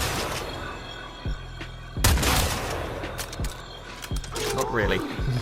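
Kuva Drakgoon flak weapon firing in the video game Warframe, several loud bursts of shots at irregular intervals over a steady game background, with a player talking over it.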